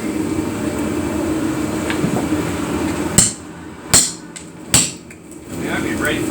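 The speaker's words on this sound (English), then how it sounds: "Give me a hammer, Mr. Rich." Hammer blows while stripping the outer skin off a cabin: three sharp, close strikes spaced under a second apart, standing out over a steady background hum.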